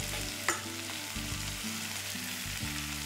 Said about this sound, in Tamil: எல்லாம் இந்த பட்டர்லேயே வந்துட்டு காய் நல்லா வதங்கணும்.